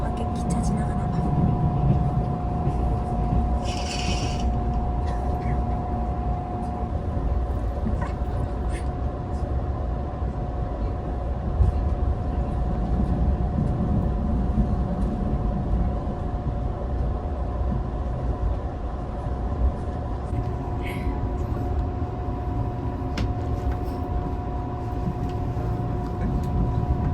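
A train runs past outside with a low, continuous rumble and a steady tonal hum that hold evenly throughout, broken only by a few faint higher clicks.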